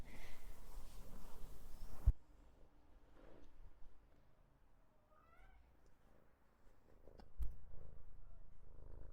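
A domestic cat purrs softly and close by in a quiet room where crochet work is done, a low, faint rumble with a brief chirping sound partway through and no talking.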